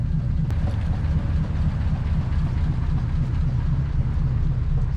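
A 1939 Ford Deluxe engine idles with a steady, deep low rumble and a faint rhythmic chug, continuous and fairly close, with no talking over it.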